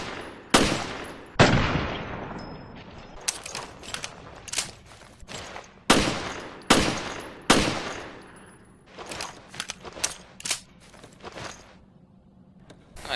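A weapon fired in the video game Resident Evil: Revelations, loud close bursts of gunshots in uneven volleys with short pauses, each blast trailing into a decaying echo, plus light footstep-like clatter between shots.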